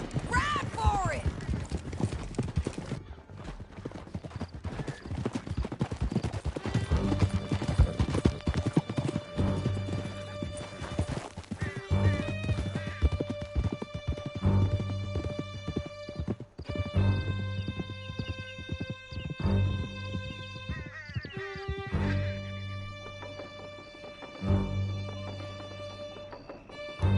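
Horses gallop with steady clip-clop hoofbeats in Red Dead Redemption 2 during a canyon escape, running loud and continuous under a swelling musical score and occasional shouted voices.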